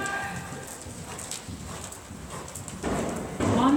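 Horse cantering in an arena during a dressage riding lesson on a 20-metre circle, hooves thudding in a soft rhythmic beat, moderately close, with an instructor's voice speaking over it.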